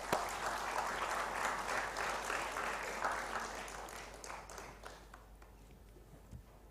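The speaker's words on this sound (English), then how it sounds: "A huge round of applause." Audience applause at a climate youth conclave and award ceremony in a hall, a dense steady clapping from a large crowd that holds strong, then gradually thins and fades toward the end.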